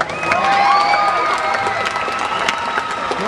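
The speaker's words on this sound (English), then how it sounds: "I got a round of applause for these two guys." An audience claps and cheers in a short burst of applause, with scattered shouts over the clapping.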